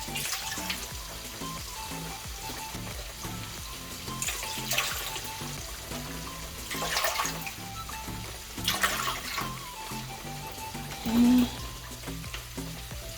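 Tilapia fillets sizzle in a frying pan with a steady crackling hiss, joined by clattering and bursts of running water, all fairly quiet with no voices.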